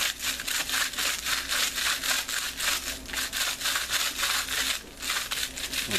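Sandpaper rubbed back and forth along a wooden arrow shaft, smoothing its nodes: brisk, rhythmic scratchy strokes, close and steady, with no talk.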